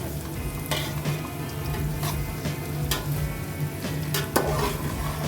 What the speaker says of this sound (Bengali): গাজর কাজু কিশমিশ সব একসঙ্গে ফ্রাই করে নেব